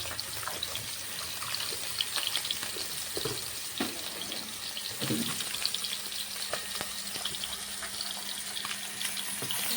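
Rui fish frying in hot oil in a pan, a steady close sizzle and crackle running throughout with a few soft bumps as the fish is turned; no one speaks.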